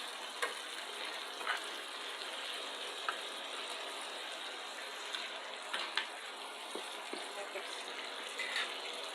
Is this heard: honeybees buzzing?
no